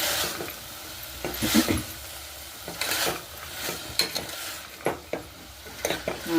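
Raw green peas tossed into a hot pan for tomato bath sizzle softly while a spoon scrapes and stirs in irregular bursts, close and moderately quiet, with no one talking.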